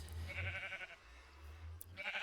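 A blocky video-game sheep bleats in two drawn-out calls with a gap between, faint and alone over a quiet background.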